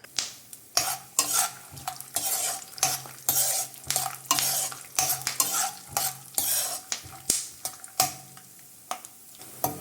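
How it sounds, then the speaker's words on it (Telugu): A handful of peanuts fries in hot oil over a low flame for gongura chutney, sizzling under constant rhythmic stirring, with repeated scraping and clinking of a spoon against the pan, no talk. "ఇప్పుడు మనం ఒక గుప్పుడు పల్లీలు లో ఫ్లేమ్ మీద ఫ్రై చేసుకోవాలి."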